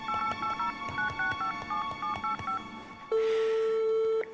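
A telephone number is dialed to call Emma: a quick run of DTMF key tones, then a sustained ringing tone begins.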